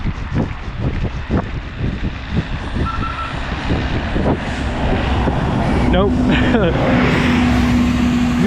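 A bus rolls past on a roadside in Albania without stopping, its engine and tyre roar building loudly and close, with wind buffeting and a brief spoken word early on.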